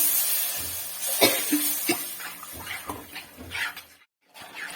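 Malabar tamarind water splashes and trickles into a pot of fish head curry in short bursts, with scraping and clinking of utensils close by, then a brief pause before it resumes.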